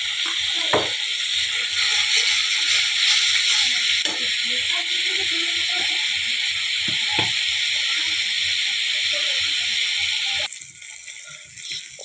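Masala of coriander, cumin and chilli powder fries in a pan for a fish dish, giving a steady, loud sizzling hiss with occasional light clatter that drops away abruptly near the end.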